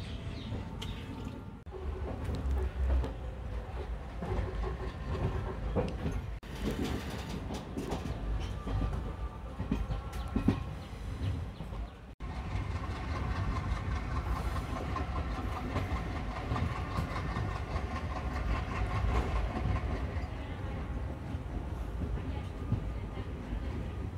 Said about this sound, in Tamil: கைஸ் சக்கிங் சவுண்டு வேறு லெவலில் இருக்குங்க